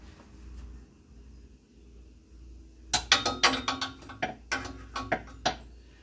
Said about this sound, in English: Put that wrench in.